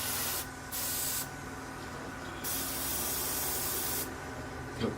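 Short bursts of spray paint hissing onto parts of a Tamiya 1/35 M4A3E8 Sherman tank model, three soft, airy blasts separated by brief pauses, close up, over a low room hum.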